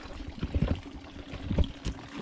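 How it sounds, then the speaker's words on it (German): A mountain stream babbles and splashes softly along a hiking trail on the Feldberg in the Black Forest, quiet irregular water sounds with no voices. "Hört man schon plätschern."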